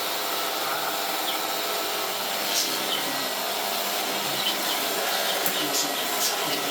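A vacuum cleaner roars steadily over a rug, a dense close whooshing hum with slight scuffs as the head moves, under faint speech.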